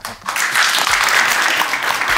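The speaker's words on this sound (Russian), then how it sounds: "Под ваши аплодисменты." Audience applause starts abruptly after a brief quiet moment and then carries on as dense, steady clapping from a crowd for the rest of the moment, with no talking over it.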